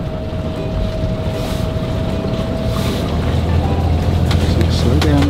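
A boat engine hums steadily with wind noise buffeting the microphone, low rumble growing slightly louder toward the end.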